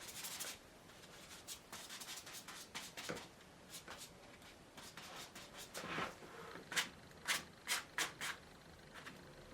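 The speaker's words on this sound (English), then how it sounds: "painting brushes, so I'll give them a good scrub out" Household painting brushes are scrubbed out in quick, close bursts of bristly rubbing, irregular at first and then falling into a faster rhythmic series of strokes, with quiet pauses between.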